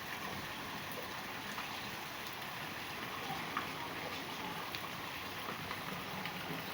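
Rain falling on garden plants in small pots, a soft continuous hiss of drops with occasional faint taps, steady and quiet with no voices.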